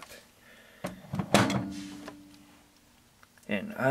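A microwave oven door shut over CO2 cartridges placed inside: a few soft clicks, then a sharp latching clack, followed by a low steady hum and a later rattle.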